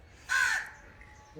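A crow perched beside cattle on a farm gives a single loud, harsh caw, close and clear, followed by quiet background.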